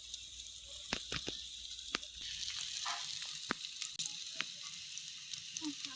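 Coated hariyali chicken fries in oil over a wood-fired stove, with a moderate background sizzle punctuated by scattered sharp pops and crackles.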